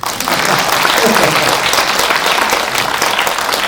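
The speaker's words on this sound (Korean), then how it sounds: "박수 한번 주십시오." A cinema audience at a Lotte Cinema Q&A after a Kim Dae-jung documentary screening bursts into applause, thick, even clapping filling the room for a few seconds.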